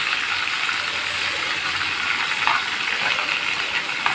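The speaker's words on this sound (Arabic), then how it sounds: "نقلب فيها لحد ما ايه تتحمص شويه كده، يعني تنشف تحمر يعني" Chopped chard and fresh coriander fry in a pan with a steady, bright, close sizzle that holds at an even level, broken by a few faint scrapes as the greens are stirred.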